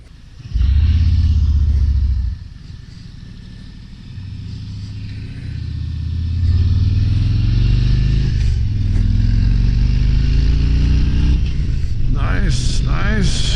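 A 2023 Harley-Davidson Road Glide Special motorcycle engine rumbles steadily while riding, its deep low drone swelling as the throttle opens and staying loud and close throughout, with speech heard over it.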